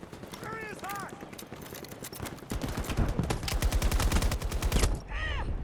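Bursts of rapid automatic gunfire from the video game Battlefield 2042 rattle out in a long, dense volley, with shorter rounds before and after, layered over game voices and radio chatter.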